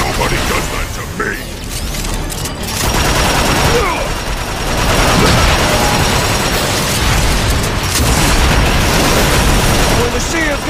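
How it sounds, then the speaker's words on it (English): Dense gunfire and explosions from the Transformers: Fall of Cybertron video game final boss mission with Optimus, sustained rapid shots and booms over a loud, busy battle mix with game voices talking. "I'll just keep shooting till something breaks!"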